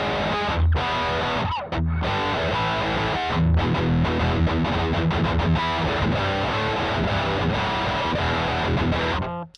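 A heavily distorted electric guitar played through an Ibanez distortion pedal plays loud chugging chords and riffs with short pauses, thick and saturated, with no voices.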